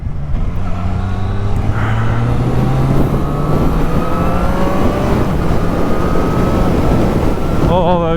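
A 2023 Triumph Street Triple 765 RS motorcycle's engine pulls hard while riding, its pitch rising through several rapid quickshifted gear changes with wind rush throughout and a sharp rev flutter near the end.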